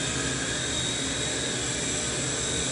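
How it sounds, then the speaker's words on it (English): An ALIGN T-REX 100S small electric RC helicopter with fixed pitch, flown indoors, gives a steady, loud, high-pitched whine and rotor hum throughout, with no speech. "It's a great helicopter. You can fly it indoors."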